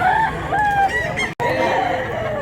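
A rooster crows loudly up close while other chickens cluck around it, in a busy outdoor chicken yard at Mantalungon, Barili, Cebu.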